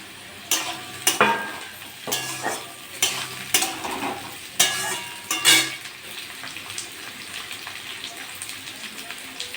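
Rice is stir-fried with capsicum in a pan, with repeated sharp scraping strokes of a spatula against the pan over a soft background sizzle, each stroke distinct and close, coming in an irregular rhythm.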